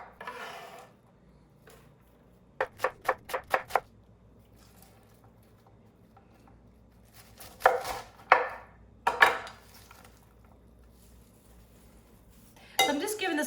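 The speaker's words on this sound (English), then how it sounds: "so now cabbage is gonna get cut up, again, nice and thin as you can" A knife chopping cabbage thinly on a board for creamy apple coleslaw, with a quick run of five crisp cuts early on, then scattered heavier chops and rustling shreds, close and fairly loud.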